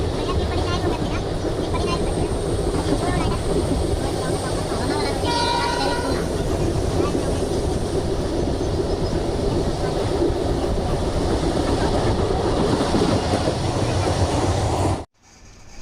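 A passenger train runs through Maharashtra toward Pune with a loud, steady rumble and rattle from inside the carriage and faint voices beneath, then the sound cuts off abruptly at the end.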